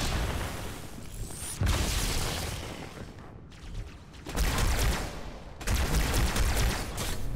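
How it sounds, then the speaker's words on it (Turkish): Grenade explosions and gunfire in the video game Halo 2: Anniversary, Elites above, come as loud booming bursts and volleys separated by sharp cuts and brief quieter gaps, heavy and close throughout. "Ağzıma bomba attılar."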